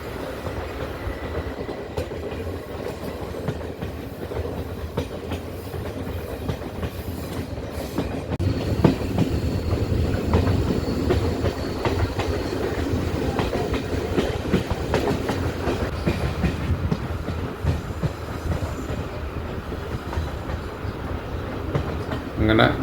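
A passenger train runs on the Tenkasi–Kollam line, climbing and curving through hills, with a continuous rumble and rhythmic clickety-clack of wheels on rails heard from inside the carriages.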